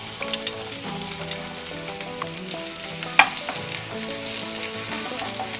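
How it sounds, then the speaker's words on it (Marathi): A small finely chopped onion sizzling and frying in two spoons of hot oil in a pan for an egg masala curry, a steady close crackle with a few sharp pops and light stirring, no talk. "ह्याच्यात आपण एक छोटा कांदा बारीक करून घालायचा आहे"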